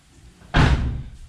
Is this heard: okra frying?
no